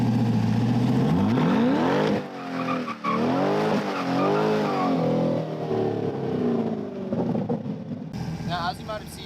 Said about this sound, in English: for like a second, just give it a lot of throttle just to kick out the rear end